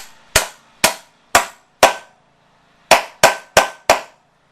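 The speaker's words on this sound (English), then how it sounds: "just tap it right in with my impact and a hammer" A hammer tapping a riding mower wheel bushing into place: eight sharp metallic strikes, four evenly spaced, a pause, then four quicker ones, loud and close with short ringing decay and no talk.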